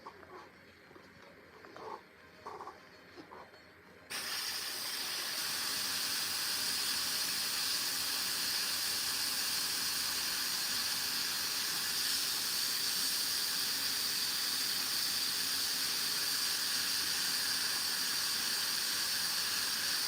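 Airbrush spraying dark green paint onto a Warhammer miniature, a steady close hiss that starts abruptly after a few quiet seconds of faint clicks and then runs continuously and loud to the end.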